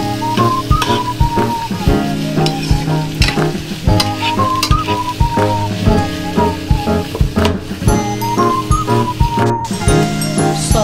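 Frozen capsicum goes into a hot pan for a sweet-and-sour fish escabeche, setting off a loud, steady sizzle and frying crackle that carries on throughout, with stirring clatter and a bright tonal melody playing over it.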